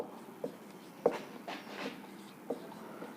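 Pen or chalk writing during a physics lecture, a few faint taps and short scratchy strokes in a quiet room, with no talking.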